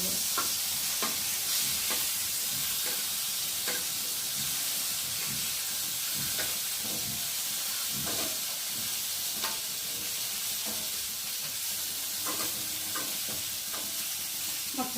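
Pointed gourd (potol) frying in oil in a pan gives a loud, continuous close-up sizzle and hiss, broken by scattered clicks and scrapes of stirring, with no talking.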